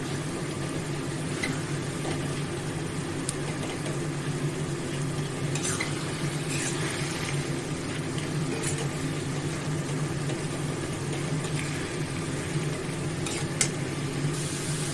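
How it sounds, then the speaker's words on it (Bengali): Mustard greens fried with butter being stirred in a pan over a gas flame, a steady soft sizzle with scraping and occasional utensil taps against the pan, close and even. "ভালো করে ঘ্যাট করে দেবো"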